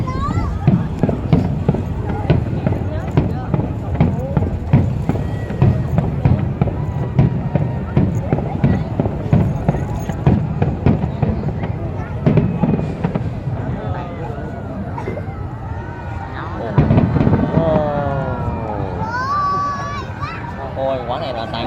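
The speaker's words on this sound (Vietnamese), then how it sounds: "of course, it always has smoke from the fireworks" New Year 2024 fireworks in Can Tho city, Vietnam, a rapid series of sharp bursts and crackles, loud and close, with people chattering throughout and a voice rising over the noise later on.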